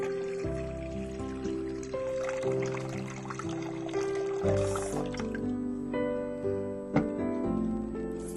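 Water pours into a kadhai cooking pan in a home kitchen while cooking masoor dal, a trickling, splashing stream under background music, with a brief clatter partway through.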